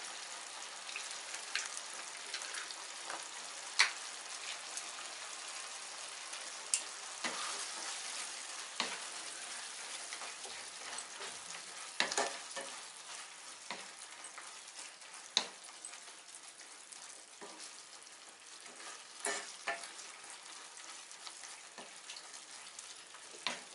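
Grated bottle gourd halwa simmers in a pan over a medium flame with a low, steady frying hiss, punctuated by repeated scraping stirs and occasional clicks, quiet and close.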